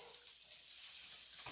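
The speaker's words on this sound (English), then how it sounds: "we're going to get that butter melting for me" Butter sizzling as it melts in a pan on the stove, a soft steady hiss close by with no talking.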